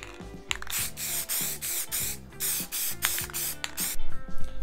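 Bursts of aerosol spray paint hiss in short repeated pulses as LED light mounts for a Toyota Tacoma grille are coated, loud and close, with no speech.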